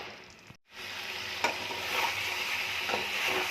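Meat frying with spices in a wok for curry, a dense continuous sizzle after a brief gap, punctuated by a few distinct spatula scrapes, close and fairly loud with no speech.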